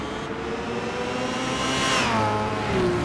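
Several racing car engines in Gran Turismo 5, including an Audi R8 and a Ford GT40, roar together in a continuous, dense drone, with rising revs and a whooshing pass partway through.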